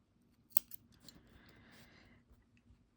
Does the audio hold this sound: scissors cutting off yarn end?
yes